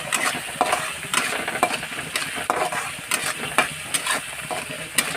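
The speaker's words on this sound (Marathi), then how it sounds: "मस्त असं परतून घ्यायचा." Spices tempering in hot oil with chillies and tomato in a pan, a steady close sizzle broken by repeated scraping stirs of a spoon against the metal, with no talking.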